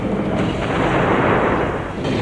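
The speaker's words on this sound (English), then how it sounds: "These are training cartridges that fire a non-lethal, but sometimes painful die marker instead of a metal bullet." Simunition training cartridge gunfire firing non-lethal dye-marker rounds during a martial arts disarm drill, a loud, continuous burst of shots with no speech.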